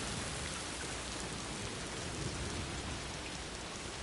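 Timefall rain in the video game Death Stranding 2 pours down hard and steadily, a dense, loud, unbroken hiss of drops striking surfaces.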